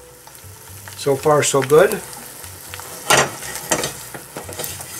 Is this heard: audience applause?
no